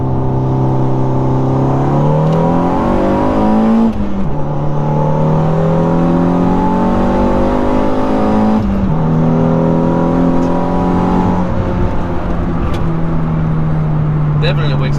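A tuned VW MK6 Golf R accelerates hard from a 40 mph roll after a brake boost. The engine drone climbs steadily through the gears, with brief dips at the shifts, loud and continuous from inside the cabin.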